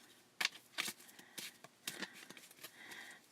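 A deck of large Past Life Oracle cards being shuffled by hand: several quick, soft riffling bursts in an uneven rhythm, close and fairly quiet, with no talking.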